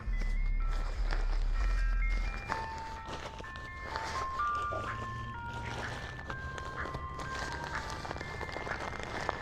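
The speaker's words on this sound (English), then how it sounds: "Got an ice cream truck coming." An ice cream truck on a street plays its chiming jingle melody at moderate distance, the tune running steadily through the whole stretch over a low rumble of traffic and outdoor ambience.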